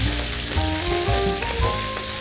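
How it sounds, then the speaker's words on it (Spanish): Lobsters and their legs sauté in hot extra virgin olive oil for a lobster and langoustine fideuà, giving a loud, steady, dense sizzle with faint clinks from the pan and no talking. "Sofreímos un poco los bogavantes"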